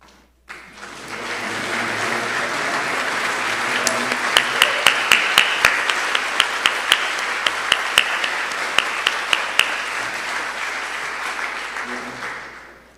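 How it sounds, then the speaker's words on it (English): A banquet audience at the Dakota Wesleyan University Legacy Banquet applauds honoring students: sustained, full-room clapping that swells, carries some sharper close claps in the middle, and holds steady for over ten seconds. "please stand and let us honor you with our applause"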